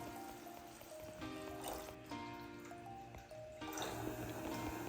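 Water pours into a cooking pot of green pigeon pea (tuver) curry, a soft, close trickling and splashing that comes in a few short bursts with faint clinks between them.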